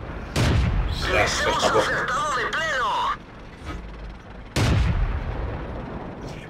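Tank cannon blasts in World of Tanks aimed at a Churchill, heard as two loud, sharp booms with trailing rumble, while someone talks between and over them.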